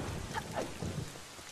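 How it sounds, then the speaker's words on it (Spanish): Heavy rain falls with rumbling thunder during a storm in the video game Zelda Wind Waker HD, a dense, steady wash of noise with low booming swells and no talking. "Es que está lloviendo bien fuerte y me da miedo."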